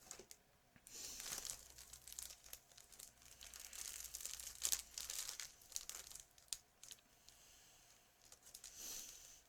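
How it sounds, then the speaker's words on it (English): Crinkling and tearing of plastic MRE packaging, close and fairly quiet, in irregular rustling bursts with sharper crackles throughout, no talking. "It comes in this strange plastic packaging, which I was not expecting"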